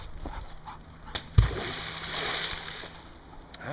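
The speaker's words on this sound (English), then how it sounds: "You want me to throw it right down there in the water, okay?" A rock thrown into water makes one sharp splash, and a dog is present at the water's edge. Slosh and rustling follow the splash outdoors.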